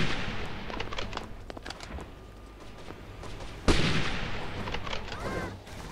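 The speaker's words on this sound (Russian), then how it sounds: "Ответный выстрел!" Sniper rifle fire in the video game Archeblade: one sharp, loud shot cracks out partway through, standing out above a busy backdrop of fainter pops and game ambience.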